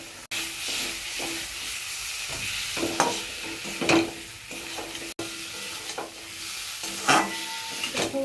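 Boiled potatoes sautéing in a pan, a steady close sizzle and hiss broken by repeated scraping stir strokes, with no voices.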